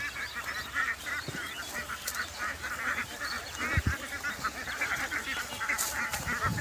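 A large flock of about three hundred ducks is herded across an open field, giving a dense, continuous chorus of overlapping quacks and honks, fairly close and steady throughout.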